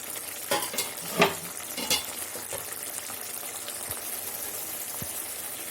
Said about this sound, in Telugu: మూత పెట్టేస్తే అది ఉడుకుతుంది